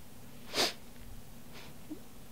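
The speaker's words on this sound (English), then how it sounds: "I'm sniffling, same thing." Someone sniffling, one sharp, noisy sniff near the start followed by a fainter second sniff, close and alone against a quiet room background.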